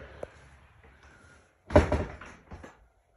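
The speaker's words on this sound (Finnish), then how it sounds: "tästä kun mennään ovesta sisään" A door opens as someone steps inside a family-owned building: a small click, then a loud thudding swing with rattle, and a softer knock shortly after.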